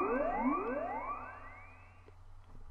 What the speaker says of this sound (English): I quite like this space ripple sound.